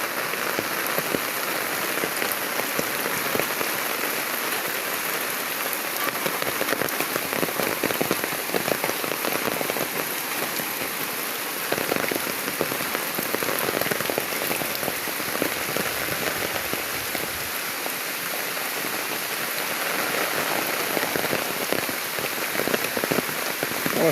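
Heavy rain pours steadily on a village road beside a pond, a dense, continuous hiss of drops hitting the surface throughout, loud and close with no voices.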